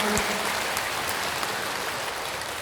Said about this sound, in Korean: 감사 영광의 박수 드립니다